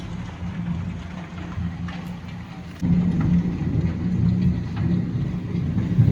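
Steady heavy hail roars throughout, with a low rumble of thunder swelling louder partway through; no voices.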